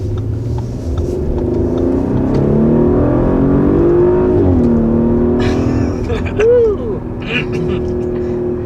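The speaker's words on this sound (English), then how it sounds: "I hear some burbles." A car with adaptive air suspension drones steadily on the move, its exhaust giving off low burbles as the engine note rises and eases, loud and close throughout.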